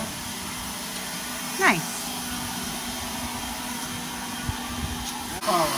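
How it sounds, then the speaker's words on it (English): A small battery-operated leaf blower runs steadily at less than full power, a continuous airy whoosh throughout, with a brief voice heard partway through. "that's a fine little blower"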